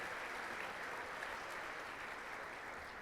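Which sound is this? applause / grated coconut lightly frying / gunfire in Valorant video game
applause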